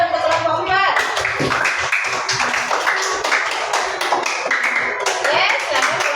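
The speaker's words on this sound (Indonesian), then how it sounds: "tepuk tangan untuk kelompok 4" A classroom group receives applause from students, a dense, steady clapping that runs the whole clip at close range, with light voices mixed in.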